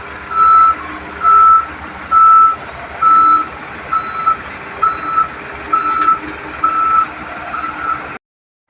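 A large garbage truck backs up in a street with its reversing alarm beeping steadily, about nine evenly spaced beeps over a loud idling diesel engine, with a short hiss near the end.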